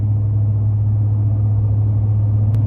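Steady low exhaust drone from a deleted L5P Duramax pickup with a 5-inch straight pipe, cruising at 70 mph, a constant loud rumble filling the cab with no speech.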